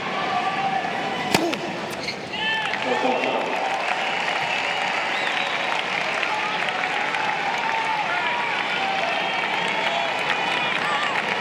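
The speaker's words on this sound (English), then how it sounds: "credit to the crowd. They're still trying to motivate Agassi when they've got very little to cheer at the moment" Crowd at the 2005 US Open tennis final between Federer and Agassi, a sustained roar of cheering and clapping throughout, with a sharp ball strike early and commentary voices over it.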